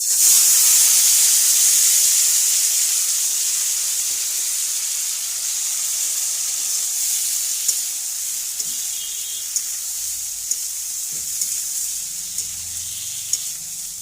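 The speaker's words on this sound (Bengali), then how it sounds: "এবার এই যে ভাজা পটলটা দিয়ে দিচ্ছি।" Fried pointed gourd goes into a hot pan with dry red chilli and sizzles in a steady, bright crackle. The sizzle is loudest at first, then settles, with occasional stirring clicks and scrapes close by.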